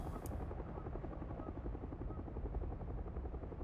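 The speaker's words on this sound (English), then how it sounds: "Yeah, that's a helicopter." Helicopter in the video game Hell is Us, a steady, loud rotor chop and engine drone that runs through the whole stretch without pause, close and unbroken, with no talking over it.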